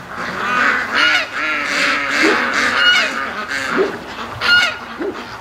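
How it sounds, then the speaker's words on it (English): Domestic ducks being raised on a yard farm head home, honking and quacking loudly in repeated overlapping calls that come in bursts, close by, with no talk over them. "Come on, ducks, come on home."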